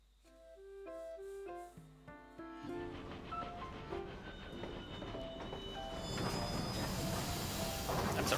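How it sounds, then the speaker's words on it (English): Train in World of Final Fantasy passing by, opening with a rising chime melody, then a building rumble and clatter that grows louder and noisier toward the end. "That's a real pretty train there."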